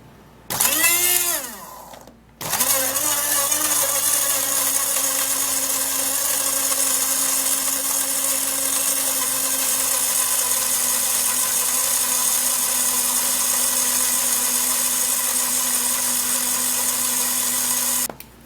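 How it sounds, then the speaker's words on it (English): A kitchen blender whirs loudly and steadily through ingredients for a skin-lightening mix, after a short first burst and a brief stop, then runs on without a break until it cuts off. "So I'm gonna be putting that into my blender."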